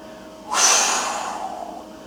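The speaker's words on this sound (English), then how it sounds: "thrust up and exhale. Just a strong, forceful exhale out the mouth" A single strong, forceful exhale out the mouth during a bodyweight hip thrust, a sharp close breathy burst that trails off over about a second and a half.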